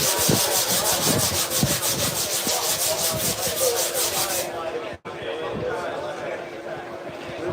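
Sanding while shaping a surfboard gives a steady close rasping with rhythmic strokes that stops for a moment partway through and then resumes more softly.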